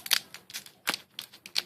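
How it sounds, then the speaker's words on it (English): Pokemon trading cards being shuffled by hand, a run of quick crisp papery snaps and flicks in uneven bursts, close up with no talking. "now I know how to shuffle them"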